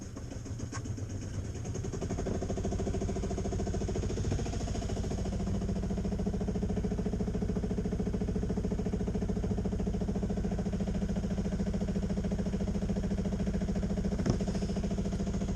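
A long-keeled boat's engine idles steadily near a quiet, flat-water mooring beside an old gaffer, a constant low droning hum with a faint knock or two, alone with no talk.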